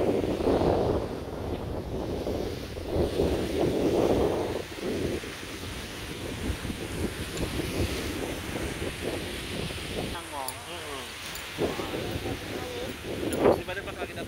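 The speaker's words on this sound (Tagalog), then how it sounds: "Mahangin, no?" Steady wind on Boracay, Philippines buffets the microphone with a low rumbling roar, while people talk intermittently nearby.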